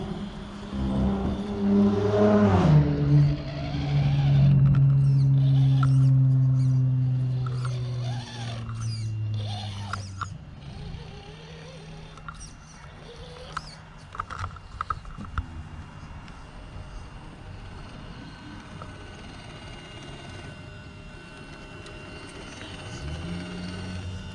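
An LCG SCX10ii Trail Honcho RC crawler drives over a backyard crawler course with gates. Its electric motor whines loudly and rises early on, then drops to a quieter hum broken by small clicks and crunches.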